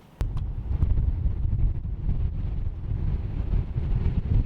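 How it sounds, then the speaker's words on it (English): Steady wind buffeting the microphone on a sailboat at sea, a loud low rumble that starts abruptly and continues without pause, with no voices. "it's more windy than it was supposed to be"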